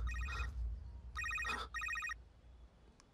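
A telephone rings in repeated bursts of a bright electronic trill, three rings in quick succession, clear and near against a quiet indoor background.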